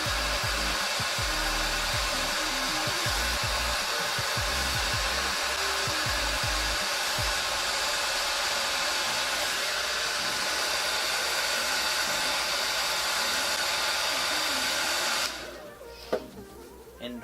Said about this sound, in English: And hold it while you blow dry it.